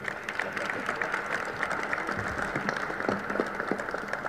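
Audience applause for Professor Rodolfo Buenaventura at a sports commission event, a steady patter of many hands clapping throughout at moderate loudness, with a faint murmur of voices underneath.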